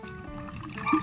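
Water poured into a pot of kare-kare with pork, thick squash and string beans, a short close trickle rising into a brief gurgling splash near the end, with no talk.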